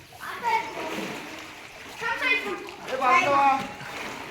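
Children's voices ring out amid splashing water as they swim in a well, bursts of shouting and playful splashes echoing in the enclosed space.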